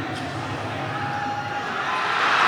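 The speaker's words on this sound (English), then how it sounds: "You can hear the crowd" Basketball arena crowd in an ABL game between CLS Knights Indonesia and Formosa Dreamers, a broad sustained roar swelling toward the end after a near-miss shot.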